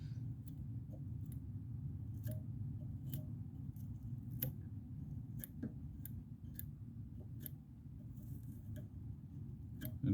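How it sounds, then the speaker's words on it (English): Small scissors snip fly-tying materials while tying a Gomphus dragonfly nymph, a series of sharp, irregular close clicks over a low steady hum. "I'll just finish what I need to finish off with my scissors."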